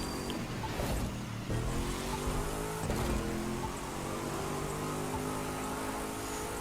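A motorcycle in the racing game The Crew 2 accelerating hard toward top speed, a steady engine drone with rising whine as it climbs through gears, joined by rushing wind noise.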